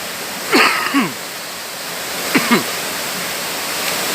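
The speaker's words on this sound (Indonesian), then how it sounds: "Tentunya teman-teman sudah mendengar bunyi air terjunnya ya seperti apa" A steady, loud rush of falling water from the PungBunga waterfall in Tompobulu, Maros, fills the scene, with a couple of brief vocal sounds cutting in near the start.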